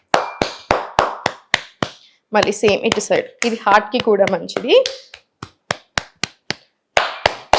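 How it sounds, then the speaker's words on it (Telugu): Clasped hands tap against the body in a brisk, even series of dull slaps, pausing while someone speaks, then resuming in a steady rhythm. "ఇట్లా చేతిని ఇట్లా క్లాస్ప్ ఫామ్ చేసేసి స్లోగా ఈ ఏరియాలో ట్యాపింగ్ ఇవ్వండి"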